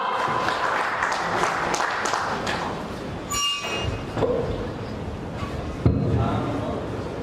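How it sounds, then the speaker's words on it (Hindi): Loud audience applause fills an award function at a dealer and distributor conference, a dense steady wash of clapping with a few sharper thumps and a voice briefly rising over it. "एक बार जोरदार तालियां"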